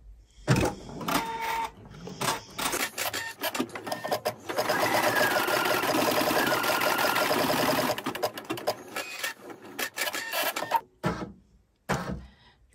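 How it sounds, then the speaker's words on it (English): Embroidery machine stitching a box of tacking stitches, with bursts of rapid needle chatter, then a long continuous run of whirring and clattering, then more short starts and stops. "the first thing we're going to do is a box of stitches to hold everything in place"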